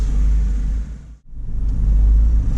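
A Fiat 500 rumbles along on a test drive, the engine growling low and steady, then briefly dropping away in a quick gear-change dip before picking back up.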